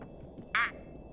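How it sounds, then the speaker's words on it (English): A single short, bright duck quack from the Mario + Rabbids Sparks of Hope video game, sounding once clearly over a faint quiet background with no talk. "So I think this is a duck"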